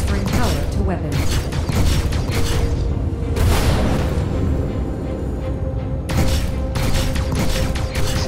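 Rocket pods fired from a Mustang Delta ship in Star Citizen strike their target, producing several heavy booming blasts in irregular bursts over mechanical rumble, with some voice in the mix.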